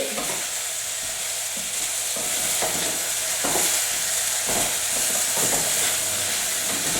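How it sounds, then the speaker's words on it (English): Vegetables for soup sauté in a hot pan, a constant loud sizzle broken by regular stirring scrapes and knocks about once a second, with no voices. "I'm just giving it a bit of a stir for 3 minutes"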